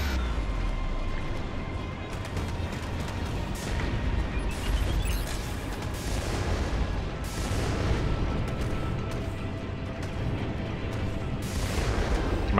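Missiles and gunfire in the space combat video game Strike Suit Zero, a dense continuous rumble of booms and blasts with sharper bursts, steady and loud.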